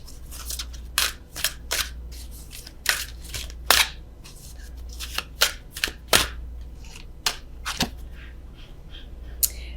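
A tarot deck is shuffled and cards are drawn, crisp riffles and papery snaps arriving in quick irregular bursts close up, with short pauses between, no voice.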